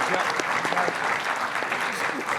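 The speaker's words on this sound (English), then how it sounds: "please give everybody a round of applause" Audience applause at the close of the 10th annual Orange Tank pitch competition in 2024, a steady, dense clapping that holds for the whole stretch with a few voices faintly mixed in.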